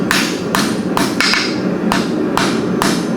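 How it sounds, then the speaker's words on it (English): Small blacksmith hammer forging a hook, working the corners: loud, sharp metallic blows at an even rhythm, about seven strikes with a ringing hum between them. "switch to a smaller hammer so that you can work those corners"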